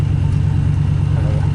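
Truck driving across a golf course at night, a steady loud low engine drone with rumbling road noise, close and continuous for a short stretch.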